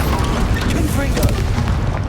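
A dense, booming blast of the Confringo explosion spell in Hogwarts Legacy fills the whole clip, loud and sustained with crackling rumble.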